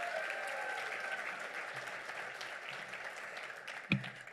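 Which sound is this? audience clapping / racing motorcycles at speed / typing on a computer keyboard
audience clapping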